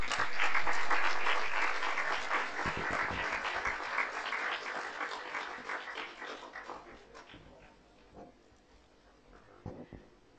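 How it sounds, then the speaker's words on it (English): Loud audience applause for an award winner at a student academic awards ceremony, strong clapping at first that gradually thins and fades, with a few scattered claps near the end. "A big round of applause, guys."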